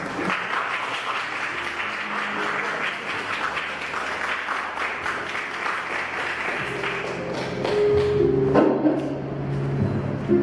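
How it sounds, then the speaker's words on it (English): Continuous crowd applause in a hall for the Manhunt Malaysia 2023 winner, a thick steady roar of clapping that swells louder near the end, with music and murmuring voices rising beneath it. "Give a round of applause to Joash Chu."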